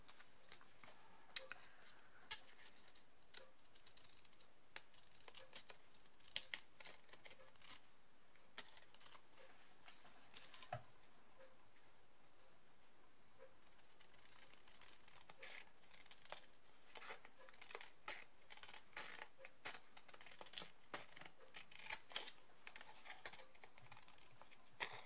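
Small scissors snipping around the edges of paper while making a handmade thank-you card, a long run of quiet, close, irregular clicks and cuts with gaps between them.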